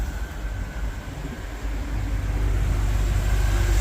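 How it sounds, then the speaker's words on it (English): A 1964 Chevrolet Corvette Coupe with a 5-speed Tremec gearbox idling smoothly, a steady low rumble that grows slightly louder partway through and holds even with no talk. "Such a smooth running car."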